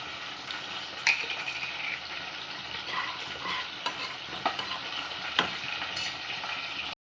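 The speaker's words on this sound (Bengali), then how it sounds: "কালো জিরেটা ভেজে নিয়েছি।" Black cumin seeds frying in a dry wok, giving a steady soft sizzle with light scraping and stirring clicks throughout, close and fairly quiet, with no talking.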